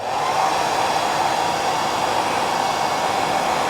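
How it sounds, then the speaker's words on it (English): A hairdryer blows steadily on a marabou feather while a mini lure is tied, giving a constant, close, loud whooshing hiss for the whole stretch with no talk over it. "let's just blow it with the hairdryer"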